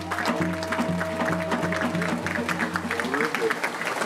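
Guests clap at a traditional Korean wedding ceremony at Wonin-jae, with a steady patter of applause mixed with a sustained tonal drone of instrumental music throughout.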